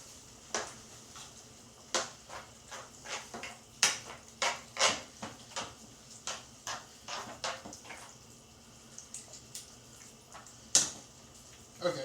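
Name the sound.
stirring spaghetti sauce in a pan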